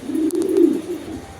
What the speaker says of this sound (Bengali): দেখেন কবুতরগুলো মাশাল্লাহ মাশাল্লাহ ডিমে আছে